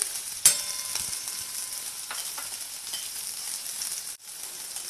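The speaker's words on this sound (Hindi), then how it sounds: "उसके बाद में मैं इसमें डाल रही हूँ एक प्याज कटा हुआ" Chopped onion sautés in a pan, making a continuous sizzle punctuated by a sharp clink at the start and a few light utensil taps, with no talking.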